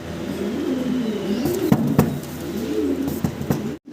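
Fancy pigeons coo in a repeated, rolling series, close and clear, with a few short sharp knocks and flutters breaking in near the end.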